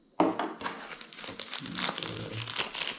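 Crinkly plastic and paper packaging being torn and unwrapped from a Realme 11 phone box, close and busy, with dense rustling and crumpling bursts throughout and no talking.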